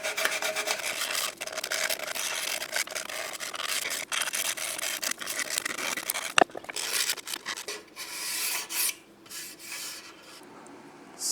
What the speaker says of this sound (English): So I'm going to sand over the edges and then stain this black as well.